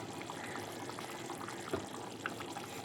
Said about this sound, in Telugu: గుట్ట గుట్ట గుట్ట ఉడుకుతుంది ఫ్రెండ్స్ కర్రీ అయితే